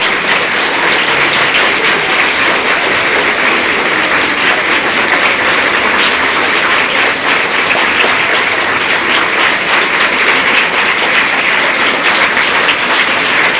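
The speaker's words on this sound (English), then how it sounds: "Deafening applause for 3 minutes." Dense, sustained applause from a large audience at a youth festival fills the space loudly and evenly for the whole stretch, a continuous wash of clapping with no breaks.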